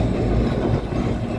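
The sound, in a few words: heritage tram passing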